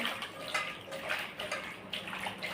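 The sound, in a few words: rinsing cut fish pieces with water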